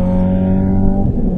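A 1989 Mercedes-Benz W124 engine revs steadily and loudly nearby, a continuous droning hum that dips slightly toward the end, with no talking.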